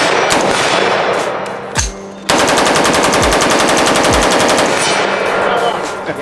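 A CMMG rifle fires in semi-auto, loud close shots first spaced apart, then a rapid dense string of reports with metallic ringing from steel targets.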